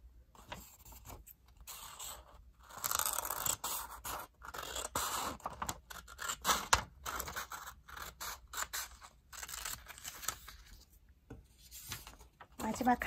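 Scissors snip and scratch through folded square origami paper, a series of close, crisp cuts and rustles in irregular bursts with brief pauses between.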